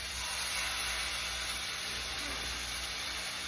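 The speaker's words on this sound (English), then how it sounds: "first piece of chicken going in. My cast iron is hot, as you can hear." Chicken sizzles in a hot cast iron skillet with avocado oil. A steady, dense hiss holds at an even level the whole time, with no talking.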